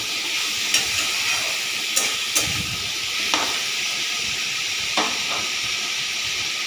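Vegetables with salt and turmeric cook covered on a low gas flame, giving a steady soft hiss and sizzle with a few faint clinks over about seven seconds.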